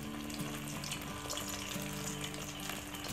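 Chira piyaju, flattened-rice onion fritters, frying in hot oil with a dense, continuous bubbling sizzle close up and faint crackles throughout, no voices.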